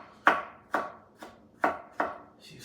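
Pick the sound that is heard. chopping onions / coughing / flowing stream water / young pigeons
chopping onions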